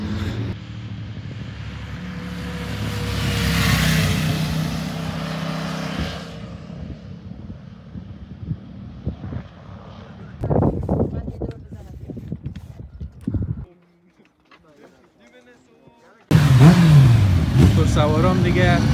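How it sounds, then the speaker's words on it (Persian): Motorcycle engines rumble and rev as the bikes pull away in the Alps mountains, fading over several seconds, then a short quiet gap before louder noise returns. "موتور سوارام دیگه حرکت کردن"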